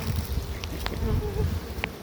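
Honey bees buzz steadily at close range during a late-winter hive inspection, a soft continuous drone with a few brief louder passes, no talking.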